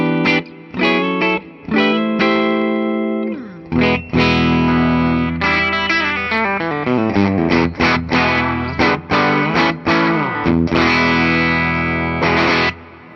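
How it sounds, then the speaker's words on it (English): A 2008 Gibson Les Paul Custom 1968 Reissue electric guitar rings out bright through effects and some distortion. Loud chords and single notes are played in bursts with short pauses, and sustained tones fill the gaps between them. "that is a very bright sounding guitar,"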